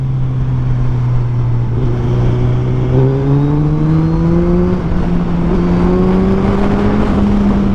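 A 2024 Suzuki Hayabusa 1304cc motorcycle with dual exhaust, pulling in 3rd gear from low RPM, its engine note climbing steadily in pitch and staying loud and close throughout.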